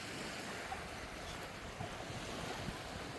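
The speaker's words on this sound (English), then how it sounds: "This is a sunrise beach." Steady wash of surf on a white-sand sunrise beach at Phu Quoc, Vietnam, a continuous broad roar with some wind noise buffeting the microphone and no voices.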